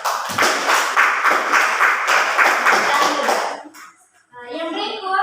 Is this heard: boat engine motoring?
no